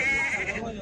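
A lamb bleats once at an Azerbaijani sheep, goat and cattle market, a single close, loud, sustained wavering cry.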